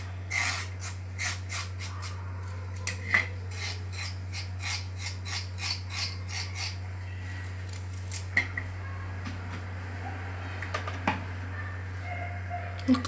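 A knife scrapes the skin off carrots being prepared for a peach and carrot juice. It makes a long series of quick, rhythmic scratchy strokes close up, with a steady low hum underneath and some quieter pauses between bursts.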